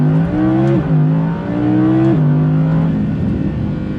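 An Audi R8 V10 Performance engine revs hard, pitch climbing through several upshifts with a loud, raspy roar close by.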